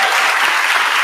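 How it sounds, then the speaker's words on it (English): Crowd applauding a mayor at a public gathering after a strike ends, a loud, dense, continuous clapping from many hands. "Please give her a big round of applause for standing up for us"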